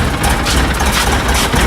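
A Polaris Ranger UTV, freshly fitted with a repaired front differential and new wheel bearings, runs on a test drive, its engine a steady, loud low rumble with no pauses and no talk over it.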